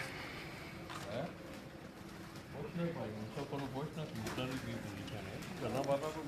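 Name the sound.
pigeons cooing from a rooftop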